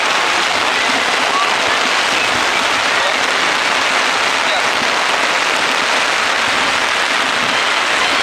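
Heavy rain pours down on an outdoor football game, a dense, loud, unbroken hiss of water hitting surfaces that lasts the whole stretch with no pauses.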